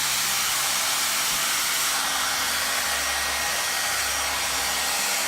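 A blow dryer dries hair during a barber academy styling demonstration, a loud continuous roaring hiss of airflow that holds steady throughout.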